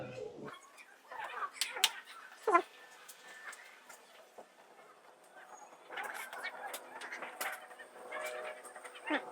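Dogs on a Bangkok street whimper and yip in short, scattered bursts, close by, mixed with street noise and occasional voices.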